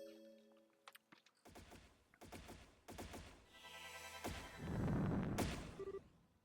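Sharp bursts of gunfire in the video game Trails in the Sky Second Chapter ring out in quick clusters, growing louder and denser, with a low rumble swelling near the end.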